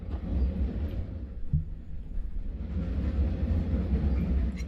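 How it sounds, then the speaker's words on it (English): A train rides along in the video game Final Fantasy VII Remake, a steady low rumble of wheels and carriage noise filling the scene with a faint clunk midway and no talking. "Right, so we're on the train."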